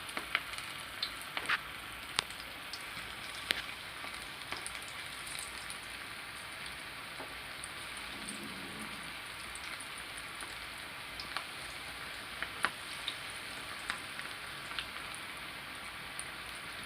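Cauliflower pieces frying in hot oil, a faint, even crackle and sizzle with scattered sharp pops, like light rain, carrying on steadily with no talking.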